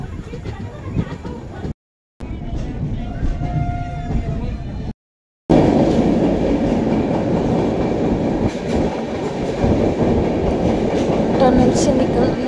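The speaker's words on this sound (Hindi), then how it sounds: "ट्रेन हमारी टर्न हो रही है पूरी" A passenger train travelling from New Delhi toward Vaishno Devi runs through hilly country and a tunnel, giving a steady loud rumble and rolling wheel noise with brief drop-outs, then a fuller, louder roar.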